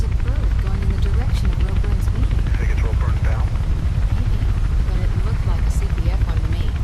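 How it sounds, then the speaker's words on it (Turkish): A police helicopter in the video game Mirror's Edge gives a steady, loud rotor rumble that persists throughout, mostly beneath someone talking. "Heyecan dorukta tekrar polis helikopterleri."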